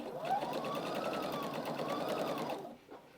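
A sewing machine with a quarter-inch foot and side guide stitches a quilted Easter egg table runner, a fast even whirring run lasting about two and a half seconds before stopping abruptly, close and alone.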